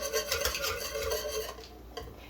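Spoon stirring homemade vanilla into caramel sauce off the heat, a steady close scraping and rubbing in a pot that thins out toward the end.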